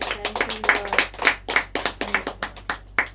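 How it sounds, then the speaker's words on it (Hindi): A church congregation claps loudly in honour of a blind beggar, a dense run of sharp, close hand claps in an uneven rhythm with no voices over it. "ये भिखारी के लिए, ये अंधा व्यक्ति के लिए एक तो जोर से ताली होना चाहिए।"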